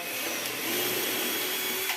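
A drill with a 4.5 mm bit bores into wood while building an external riser for adapted road cycling, giving a steady close-up whine with a thin sustained tone and no speech.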